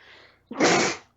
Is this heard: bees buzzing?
no